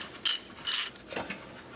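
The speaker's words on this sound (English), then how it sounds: "So take that bolt off." Ratchet wrench loosening a bolt on the neutral safety switch of a Nissan Frontier pickup, two quick close clicking bursts followed by a couple of softer ticks.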